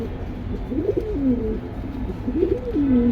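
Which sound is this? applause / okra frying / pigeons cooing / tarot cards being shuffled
pigeons cooing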